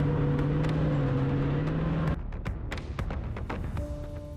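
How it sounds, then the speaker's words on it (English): An M2 Bradley fighting vehicle drives through the dragon's teeth of the Surovikin line in Ukraine, its loud engine droning steadily before dropping in level, with sharp metallic clicks and clanks scattered through the sound. "We see the Bradley driving through the Surovikin line"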